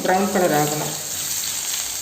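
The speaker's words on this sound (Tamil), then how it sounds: "3 பல் பூண்டு இடித்து வச்சுருக்கேன், இதை நம்ம சேர்த்துக்கலாம். பூண்டு நல்லா கொஞ்சம் வாசம் வர்ற வரைக்கும் நல்லா வதங்கணும்" Three cloves of crushed garlic sizzle steadily in hot oil in a pan while being cooked for a spicy puffed-rice snack, with a voice talking briefly over the opening before the frying carries on alone.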